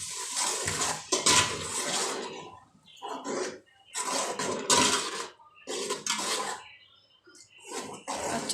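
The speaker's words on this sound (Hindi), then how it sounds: "थोड़ा सा पानी डालेंगे।" Water is poured in short bursts into a pan of fish curry with flat beans and bottle gourd, several splashy pours separated by quiet pauses, close and fairly loud.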